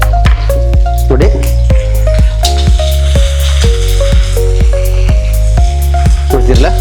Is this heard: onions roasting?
yes